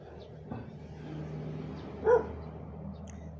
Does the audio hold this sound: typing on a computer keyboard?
no